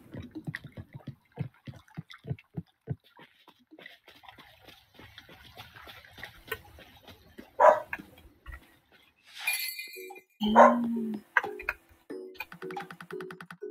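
Dog barks in the video game Spirittea, a few sharp yaps later on after a long run of steady ticking footsteps and clicks, loud and close with no talk over them.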